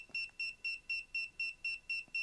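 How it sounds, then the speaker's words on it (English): A Sainlogic SA1 smart weather station display beeps rapidly and steadily while syncing, about nine high-pitched bleeps in even rhythm, close and fairly quiet. "this thing beeping like crazy"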